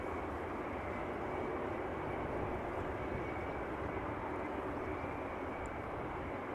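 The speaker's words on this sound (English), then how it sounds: "Embraer 175 from Geneva also inbound" An Embraer 175 jet from Geneva arrives at Schiphol, producing a constant, even engine rush heard at moderate distance with no voices over it.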